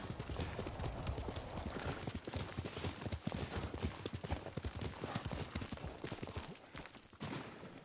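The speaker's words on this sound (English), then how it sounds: "Yuriko's horse." A horse's hooves clip-clop in a steady, close, moderately loud rhythm in the Ghost of Tsushima video game, with a brief whinny and faint background sound.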